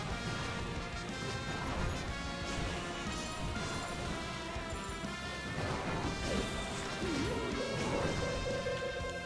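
Kane smashes an enemy troop in a Clash of Clans battle, with heavy crash and impact effects over a dense, continuous layer of game music and battle noise.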